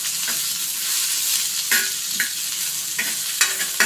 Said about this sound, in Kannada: ಸ್ವಲ್ಪ ಕರಿಬೇವು ಸೊಪ್ಪು ಹಾಕ್ಕೊಂಡು ಮಿಕ್ಸ್ ಮಾಡ್ಕೊಳ್ಳಿ ಎಣ್ಣೆಯಲ್ಲಿ